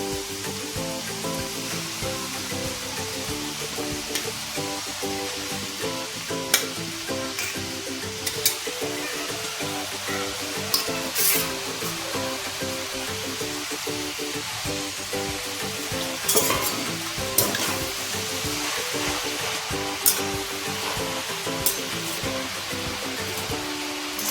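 Grated carrots roast in a pan for gajar halwa, giving a steady sizzle with intermittent scraping stirs and a few sharper clatters, while tonal background music plays throughout.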